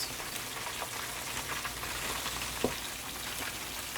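Fish deep-frying in plenty of hot oil for Jamaican escovitch fish, giving a steady, dense crackling sizzle throughout, fairly quiet and close, with one brief sharper pop midway and no voices.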